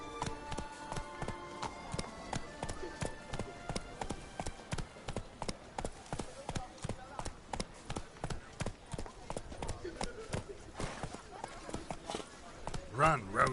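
Roach the horse gallops in The Witcher 3, with rapid, steady hoofbeats clopping close and clear throughout over faint background music.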